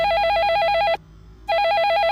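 A telephone rings loudly with a warbling electronic trill, two bursts separated by a short pause, close and clear with no talking.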